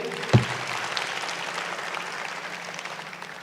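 Applause at a tech skills program graduation ceremony for a speaker, a moderate wash of clapping from the crowd after a brief thump near the start, tapering gradually.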